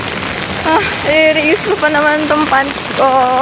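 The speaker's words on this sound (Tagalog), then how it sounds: "Grabe yung ulan" Heavy rain pours steadily on an outdoor commute home under a dark sky, a constant broadband hiss throughout, with someone talking over it.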